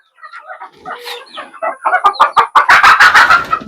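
Chickens cluck close by as they drink water, in a quick series of calls that grow louder and more insistent toward the end.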